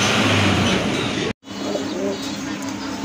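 Pigeons at a pigeon farm coo in low, continuous murmurs over a noisy background, with a brief sharp dropout midway before the cooing resumes.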